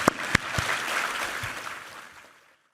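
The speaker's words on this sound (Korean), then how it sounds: "우리 하나님께 감사와 영광의 박수 올려드리겠습니다." Congregation applause at a Sunday church service, a broad wash of clapping with a few sharp claps at the start, steadily fading out to silence within about two and a half seconds.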